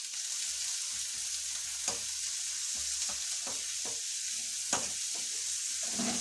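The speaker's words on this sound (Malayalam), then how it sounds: "വഴറ്റിയെടുക്കട്ടെ." Food sautés in a pan with a steady hissing sizzle, and occasional scrapes and knocks come as it is stirred, close and moderately quiet with no talking.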